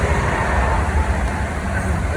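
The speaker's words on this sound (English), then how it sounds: "a train's going by." A train rumbles past nearby as a steady low, broadband roar with no distinct horn or clatter, holding at even loudness throughout.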